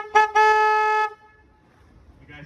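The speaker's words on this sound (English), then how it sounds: "I do have to honk my horn right here," A car horn on a street near the Riverwalk in San Antonio, Texas, sounds a short toot and then one sustained, loud blast lasting about a second, followed by quiet traffic ambience.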